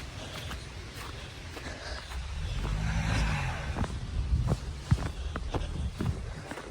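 A car pulls out of snow on a New York City street, its engine rising and straining in a low rumble, with footsteps and crunching snow nearby.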